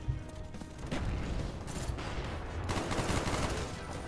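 Rapid bursts of automatic gunfire from a Black Ops 1 multiplayer match, with dense, continuous shooting near and loud for a few seconds.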